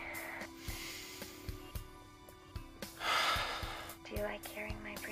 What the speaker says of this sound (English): Do you like hearing my breathing?